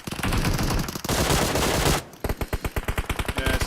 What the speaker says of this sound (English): Hearing gunshots, late zone, edge of zone